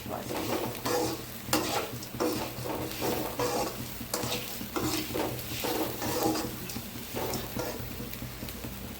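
Mitkeelu snacks stir-fried in hot oil, with a steady close sizzle under repeated scraping strokes of a spatula against the pan and occasional metal clinks, no talking.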